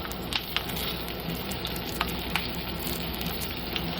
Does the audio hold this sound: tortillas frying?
yes